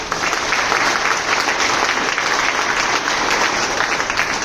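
A crowd at a business meeting claps enthusiastically, a dense, sustained burst of applause that stays loud and even from start to finish.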